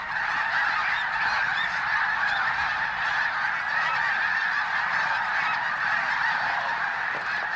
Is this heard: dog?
no